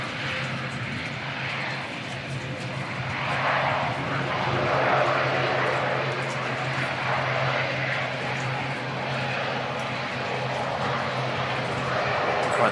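A Singapore airliner takes off at Christchurch Airport in New Zealand on a wet, windy day, its jet engines a steady broad roar that swells slightly mid-way and holds, heard from a distance with wind noise.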